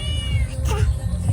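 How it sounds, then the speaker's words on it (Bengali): A domestic cat meows close by, giving a short, clear wail that rises and bends over about a second amid light background noise. "ক্যাট কিভাবে ডাকছে দেখো,"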